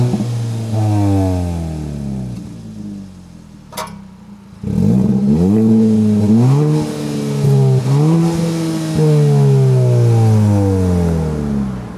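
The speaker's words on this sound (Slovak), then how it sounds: "Ten výfuk je podľa mňa úplne ten istý s aktívnou klapkou." Kia ProCeed GT 2022 facelift engine revving hard through its exhaust with an active flap on the right side, rising and falling in several loud surges with a sharp bang near the middle, no voices over it.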